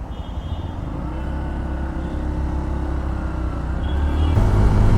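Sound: Yamaha FZS Hybrid motorcycle engine starting and running

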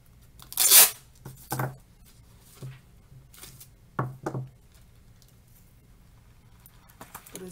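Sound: packing tape being pulled and torn

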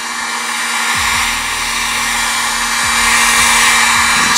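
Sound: heat gun heating a Kydex sheet for cosplay armor

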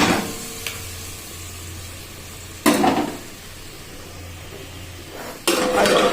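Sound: fish frying in oil

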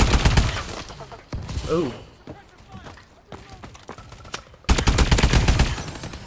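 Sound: AE4 weapon gunfire in Call of Duty: Advanced Warfare video game

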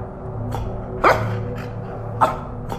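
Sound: dog barking in a horror video game

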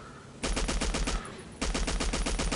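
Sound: light machine gun firing in video game Battlefield 1942

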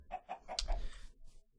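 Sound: chicken clucking in the video game Minecraft

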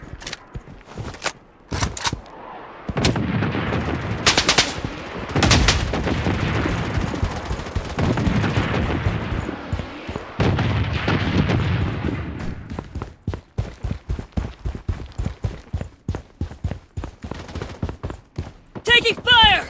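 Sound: missile bombardment and gunfire in the video game BloodStrike

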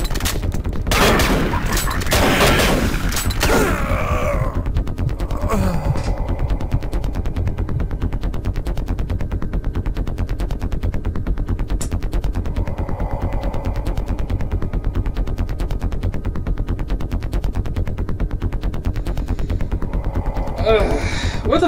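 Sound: shotgun fire in the video game Doom 3

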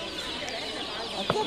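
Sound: chickens clucking at a poultry market

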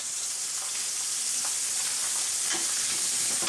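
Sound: rib steak sizzling in a frying pan

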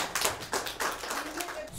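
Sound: children applauding in class

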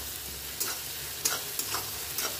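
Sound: tomatoes frying and being stirred in a pan

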